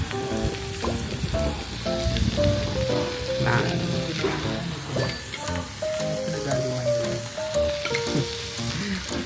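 Hotpot and barbecue sizzle steadily at a restaurant table in Sapa, Vietnam, a dense continuous frying crackle with scattered clinks and pops, close and fairly loud throughout with no talk.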